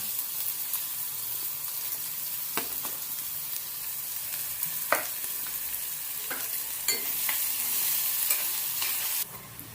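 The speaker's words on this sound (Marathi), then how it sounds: "कांदा आपण तेलामध्ये परतून घेऊया" Chopped onions sauté in oil with a steady, fairly quiet frying sizzle, punctuated by repeated spatula scrapes and taps against the pan as they are stirred.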